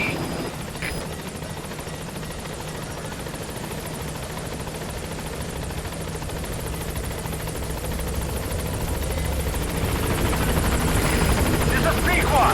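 Helicopter in Metal Gear Solid V approaching a landing zone, its rotor chopping loud and continuous and growing steadily louder and closer, with voices over the rotor noise.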